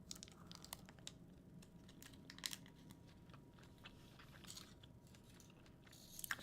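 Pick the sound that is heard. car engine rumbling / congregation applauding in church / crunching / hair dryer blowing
crunching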